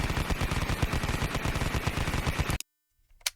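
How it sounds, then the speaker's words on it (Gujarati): Rapid automatic gunfire from a weapon sound-effect library, loud and close, a dense burst of shots that stops abruptly, followed by near silence and a faint trailing sound. "અલગ અલગ વેપન ના અવાજ છે."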